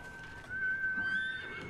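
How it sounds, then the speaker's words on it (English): A horse whinnies in Ghost of Tsushima, a single drawn-out high neigh lasting under a second amid faint hoof clops and ambient game sound. "Also, where's my dumb horse?"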